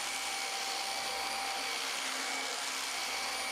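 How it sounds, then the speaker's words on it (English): A Dyson DC25 Animal vacuum cleaner runs steadily while sucking black pepper off a floor, a loud, even motor whine and airflow roar with no speech. "here you can see the Dyson vacuum sucking it up"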